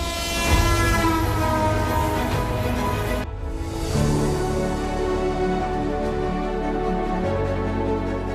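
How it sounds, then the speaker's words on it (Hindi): An Indian Railways train rolls past with a loud, sustained horn blaring over dense rumble, briefly breaking off near the middle before the horn and wheel noise resume steadily. "हमारी भारतीय रेल।"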